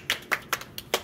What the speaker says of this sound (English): I can make my hands clap.